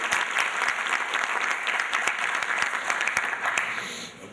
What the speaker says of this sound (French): ils répondent à ma place, de par leur applaudissement